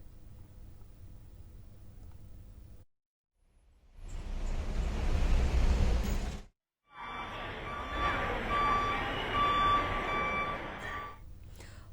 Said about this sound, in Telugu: హైదరాబాద్ ఎంజీబీఎస్ సహా పలు బస్టాండ్లు ప్రయాణికులతో కిక్కిరిసిపోయాయి